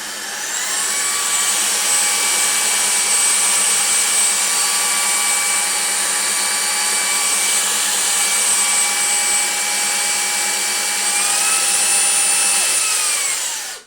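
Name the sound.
vacuum cleaner sucking up dried yogurt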